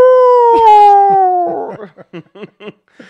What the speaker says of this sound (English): The crying dog spoiler warning.